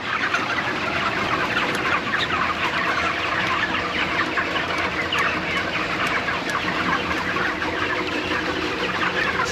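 A dense flock of chickens in a brooder house clucks and chatters without pause, many birds overlapping into a steady, close, busy din.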